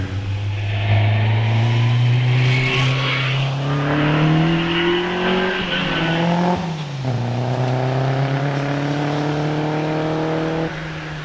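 Bugatti race car climbing the Prescott hillclimb course, a loud engine revving up through several gear changes with rising and falling pitch, close and then fading as it pulls away.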